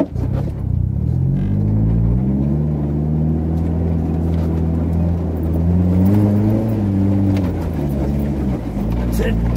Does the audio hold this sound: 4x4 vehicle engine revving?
yes